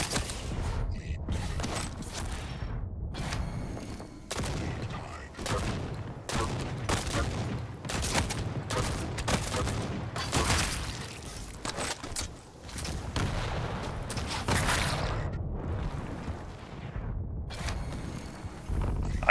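Rapid bursts of rocket explosions and weapon fire in the arena shooter Quake Champions, a string of loud, sharp blasts in close succession with short gaps, punctuated by mechanical clanks and no talking.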